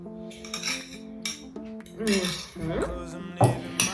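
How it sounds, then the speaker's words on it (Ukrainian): Utensil scraping a butter mixture out of a small bowl into a large bowl for a grated pie; several clinks and scrapes of metal on dishware, close and fairly quiet, with no voices. "вміст мисочки з маслом ми перекидаємо в велику миску"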